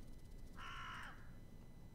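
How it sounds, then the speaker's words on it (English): A single harsh crow-like caw, about half a second long, sounds in the video game Sorcery! against a quiet low background hum. "Oh, bird."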